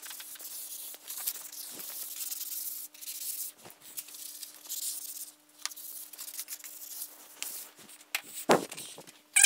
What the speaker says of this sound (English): Now we're going to use just a simple sanding sponge.